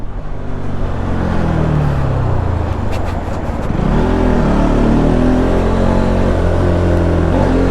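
A Bajaj Pulsar NS motorcycle ridden through city traffic revs its engine, with a droning note that dips and then climbs back louder about halfway through, heard close up and continuous.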